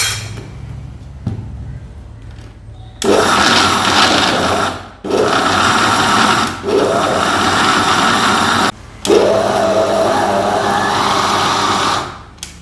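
A kitchen blender grinds sesame seeds and dates in three loud, steady bursts with brief pauses between them, after a quiet start.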